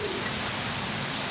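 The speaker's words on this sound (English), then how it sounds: "That's just rain." Steady broadband hiss of rain falling outdoors near a bridge, even and continuous with no distinct drops, moderately loud and alone.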